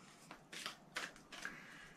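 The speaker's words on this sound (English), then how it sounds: "and then we shuffle" A deck of reading cards is shuffled during a pick-a-card session: quiet, papery riffling in several rhythmic bursts, soft and close with no voice.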